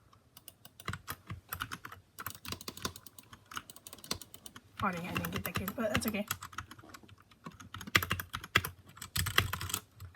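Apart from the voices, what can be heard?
typing on an RK61 Royal Kludge mechanical keyboard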